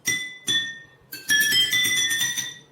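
Jal tarang bowls struck with a spoon ring out in bright glassy clinks, two separate strikes followed by a quicker cluster of ringing notes, close and clear with no voices.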